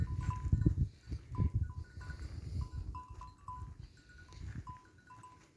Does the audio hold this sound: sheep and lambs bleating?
yes